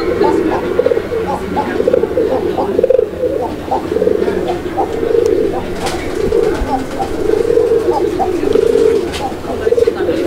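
Male pigeon of the pathor-eyed pair cooing repeatedly, rhythmic low throaty coos close by, rolling on and off in steady phrases, with faint background noise and occasional clicks.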